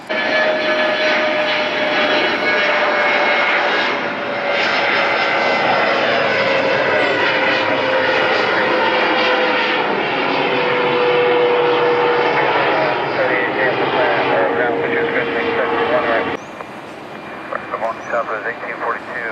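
A Delta Boeing 757-200 at Tampa International Airport roars with loud, sustained jet engine noise that dominates throughout, and a voice talks over it.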